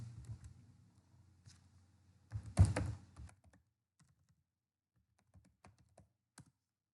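Computer keyboard typing in a short burst, with a cluster of louder key presses in the middle followed by a few scattered, fainter taps, heard close and alone with no talking.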